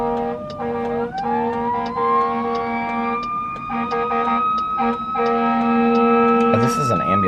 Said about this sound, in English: Oh, this is an ambulance.